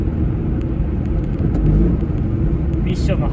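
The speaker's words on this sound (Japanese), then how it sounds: "吸気音がね結構しますね" A Honda S660 engine idles with a steady, throaty rumble and a loud intake whoosh from an aftermarket air cleaner, while a voice talks over it.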